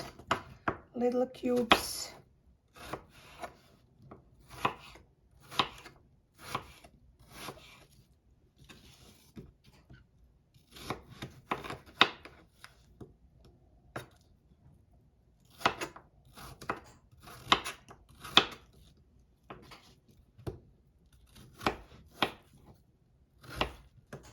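A knife chops apples into little cubes for an apple cake, making sharp, crisp thuds on a cutting board in irregular bursts with short pauses, close and clear, with no talking.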